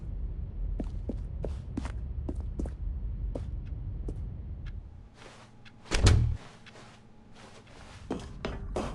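A door in a video game opening with a sudden loud whoosh and thump midway, preceded by a series of sharp clicks and taps over a low rumble, then quieter ticking afterward, with no talking.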